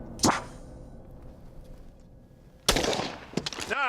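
A shotgun blast cracks loudly in open air during trap shooting, followed by a paintball grenade bursting with a second sharp report and a trailing whoosh, a quieter hiss in between.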